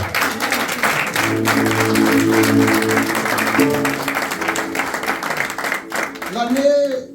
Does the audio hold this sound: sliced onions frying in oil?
no